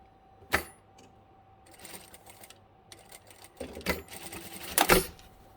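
A sewing machine stitches down a fabric fold on a false trouser hem, running in short, rapid mechanical bursts separated by pauses, the last bursts loudest and close by.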